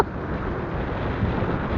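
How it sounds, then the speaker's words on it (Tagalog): Wind buffets a small fishing boat at sea off Oriental Mindoro, a steady broadband rush with no talk. "Tinutulok ako ng hangin."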